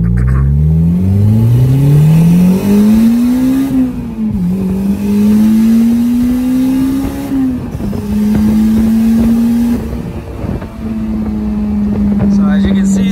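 Turbocharged Honda S2000 AP1 engine on 1000cc injectors revving and accelerating through the gears, loud rising engine tone that drops at each shift then climbs again, close and dominant throughout.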